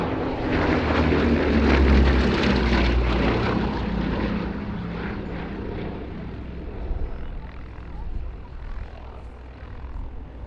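A Bristol Blenheim light bomber powered by two Bristol Mercury radial engines flying past at an air display, a broad propeller roar loudest early then slowly receding and fading.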